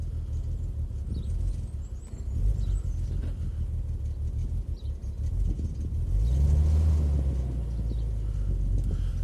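A BMW Z3 with a new coil pack idles with a low, steady rumble, then its engine revs up and holds an elevated, droning rev for several seconds. The sound is close and continuous, and no one speaks.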